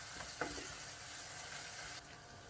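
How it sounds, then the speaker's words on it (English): Garlic cooks in a pan with a soft, steady sizzle and one brief stir or scrape near the start, quiet and close, with no voices. "Let that garlic cook in."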